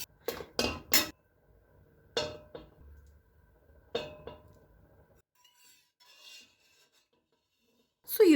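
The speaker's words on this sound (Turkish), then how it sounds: "Şimdi bunların kabuklarını soyarak doğrayacağım." Scraping and knife strikes on a plate as cooked beets are peeled and chopped, a few sharp clinks and rasps in short bursts separated by quiet pauses.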